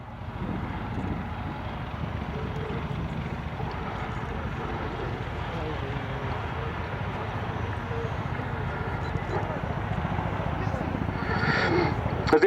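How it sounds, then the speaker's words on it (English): An RAF CH-47 Chinook twin-rotor helicopter flies at a naval air station air day display, a continuous low rumbling drone that slowly builds in loudness over several seconds and is heard mostly alone outdoors. "CH-47 Chinook."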